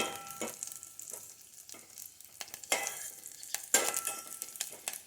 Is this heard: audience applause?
no